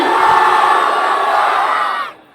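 Large crowd at an AIMIM election rally in Gangapur roaring a slogan response, a loud sustained mass shout for about two seconds before cutting off.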